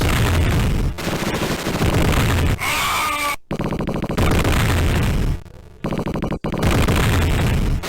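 Loud retro gunfire and explosions from RoboCop vs The Terminator on the Mega Drive/Genesis pound in a chaotic, nearly unbroken barrage, broken by a couple of brief dropouts.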